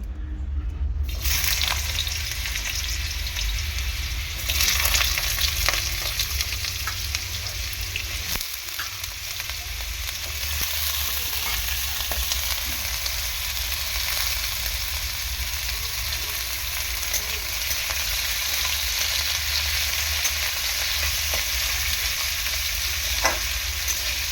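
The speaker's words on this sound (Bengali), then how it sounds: "তেলটা ভালো করে গরম হয়ে গেছে, এখন আমি আলুটা দেব।" Potatoes frying in hot oil in a pan, a loud steady sizzle with some stirring that runs the whole way through, with no one talking.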